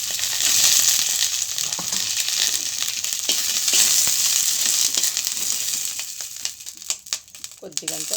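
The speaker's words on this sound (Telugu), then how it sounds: "ఇప్పుడు పచ్చిమిర్చి వేసేసుకున్నాం" Green chillies fry in hot oil for a roti pachadi chutney. A loud, close sizzle crackles steadily, then gives way to a few sharper bumps and crackles near the end, with no clear talk.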